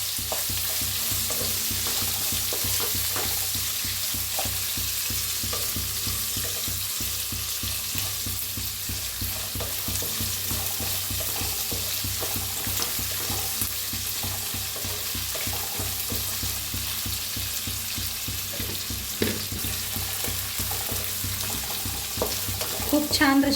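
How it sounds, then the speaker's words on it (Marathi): Sliced onion sizzling steadily in a pan while being sautéed for a raw mango rice dish, with occasional stirring scrapes and a constant frying hiss throughout. "चांगलं कांद्याला भाजून घेऊया"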